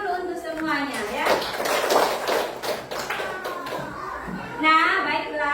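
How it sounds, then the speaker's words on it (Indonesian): Children clapping their hands in a classroom, a burst of irregular claps and taps mixed with young voices and chatter, fairly close. "Tepuk tangan dulu untuk semuanya ya."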